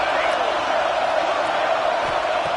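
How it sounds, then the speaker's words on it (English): A stadium crowd in a college football video game roars steadily and loudly without a break as the defense lines up for a red zone stop. "And here comes the noise. This crowd is trying to inspire this defense to make a big red zone stop."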